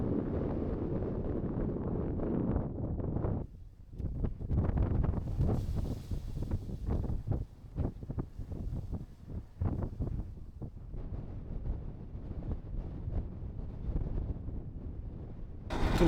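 Strong gusty wind in the Käsivarsi wilderness of Finnish Lapland buffets the microphone in heavy low rumbles, sustained throughout with brief lulls, and no voices.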